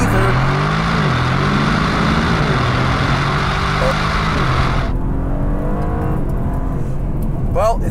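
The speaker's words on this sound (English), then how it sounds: "Now, what if I just launched it, Sport Plus, and here we go, and go." An Aston Martin DB12 with turbos launches hard in Sport Plus mode, its engine roaring loudly and climbing through revs before the sound cuts off sharply midway, with a few faint later whooshes.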